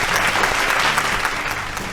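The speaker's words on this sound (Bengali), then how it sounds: "জোরে হাততালি।" A studio audience at a family game show applauds loudly for a correct answer, with dense, continuous clapping and no talk.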